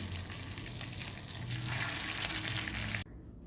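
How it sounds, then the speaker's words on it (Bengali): Pumpkin kofta balls frying in ghee make a steady, close crackling sizzle for about three seconds, then the sound drops away to quiet. "এবার এখানে এগুলো দিয়ে আমি একটু ভেজে নেব।"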